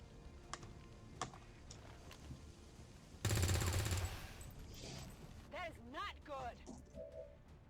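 Overwatch gunfire in XCOM 2, a loud dense burst of ballistic shots lasting about a second, surrounded by softer clicks and game sounds, with a voice speaking afterward.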